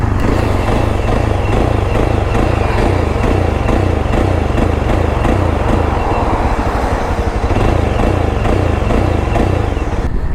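A Yezdi Adventure motorcycle engine runs steadily and loudly while riding, a continuous low drone with slight surges and irregular fueling, close up and with no voices.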